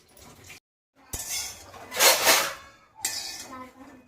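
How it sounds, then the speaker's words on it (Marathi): Peanuts dry-roasting in a pan while a utensil stirs them, giving metallic clinks and scraping in short bursts with a brief silent gap near the start. "इथे मी शेंगदाणा भाजून घेत आहे।"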